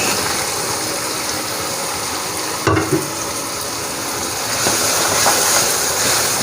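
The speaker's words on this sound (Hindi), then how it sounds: "इस गोश्त को जी अब हम मज़े के साथ 3-4 मिनट 5 मिनट भूनेंगे इस मसाले में" Meat being fried and stirred into a prepared masala for a wedding-style yakhni aloo gosht: a steady, close sizzle with a couple of brief clanks of a spoon against the pot, and no talking.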